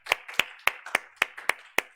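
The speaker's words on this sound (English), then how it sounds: "let us give biggest clap offering to the Lord" A church congregation claps together during a Family Day praise service, about seven sharp, evenly spaced claps falling on a steady quick beat over two seconds, fairly close and clear with no talking.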